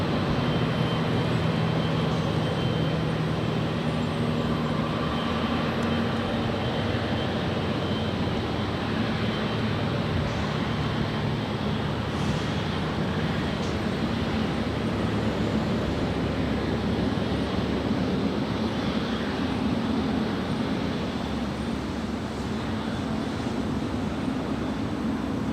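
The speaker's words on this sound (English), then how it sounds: "our next arrival is China Airlines Flight 6 coming in from Taipei. It's an A350-900." A China Airlines Airbus A350-900 airliner arriving at Los Angeles LAX from Taipei, a constant broad jet rumble and hiss that stays steady and moderately loud, with no talk.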